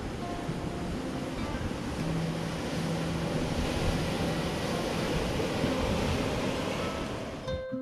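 Waves surge against an eroding riverbank or shoreline behind a waterfront restaurant, a continuous loud roar of surf and wind-buffeted water with no voices.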